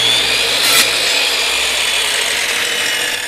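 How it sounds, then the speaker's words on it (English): A power drill whirs steadily, drilling pilot holes into wood, loud and close, with a brief harder bite near the start before the motor winds down at the end. "I was able to drill some pilot holes to get going"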